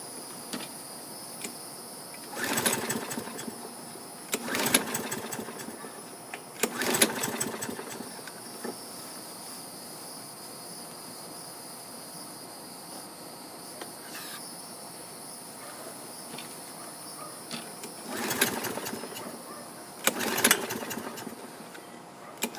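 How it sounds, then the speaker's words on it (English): A used lawn mower engine is cranked again and again, giving several short bursts of pull-start rattling and sputtering that never catch, with a faint steady buzz in between. "let's try this one, see if it starts"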